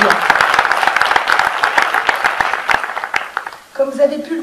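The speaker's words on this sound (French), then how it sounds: "On peut l'applaudir." A conference audience in a debate hall clapping together, a dense burst of applause lasting a few seconds before it thins out and a voice begins speaking.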